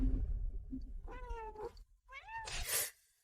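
A cat gives two drawn-out meows, the second rising into a louder caterwaul, close and clear over a low background rumble.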